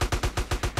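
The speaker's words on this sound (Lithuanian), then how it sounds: "kažkas į mane šaudo" Rapid automatic gunfire from a GTA San Andreas firefight, a steady string of about seven evenly spaced loud shots in under a second, with no talk over it.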